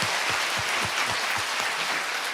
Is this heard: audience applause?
yes